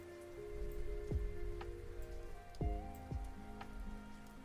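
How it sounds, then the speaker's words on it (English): Soft rain ambience from a Spirit City app, a steady even patter with a few low rumbles of distant thunder, quiet and continuous throughout. "It has the ambience that you guys are hearing, like the rumbling thunder and the smooth rain."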